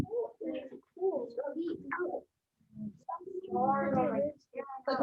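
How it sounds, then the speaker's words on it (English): Birds call outdoors with cooing, pigeon- or dove-like notes, fairly close, mixed in with people talking over much of the scene. "Birds are chirping."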